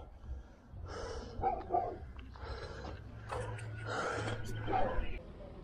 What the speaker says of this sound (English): Ah, these dogs, I hate them.